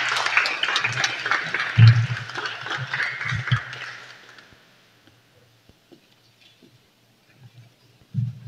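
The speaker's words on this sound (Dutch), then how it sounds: "Mag ik een applaus voor Tirsa Warner?" Applause from an audience at an indoor community gathering greets the speaker Tirsa Warner, a steady patter of many hands that fades out over about four seconds into near silence, followed by a few faint knocks.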